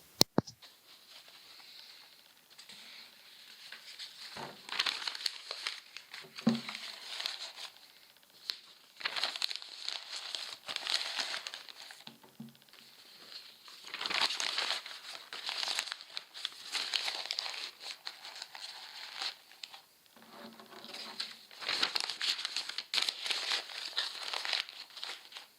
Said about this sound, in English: you get some leftover paper, chuck it inside, and then you leave them until morning